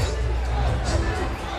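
A boxing arena crowd reacts to undefeated fighter Acelino Freitas with a broad roar of murmuring and cheering, dense and continuous under a commentator's voice.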